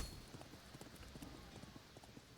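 Horses galloping in the video game Thronefall, a rapid rhythmic clip-clop of hooves pattering steadily and fairly faint throughout, with no voices.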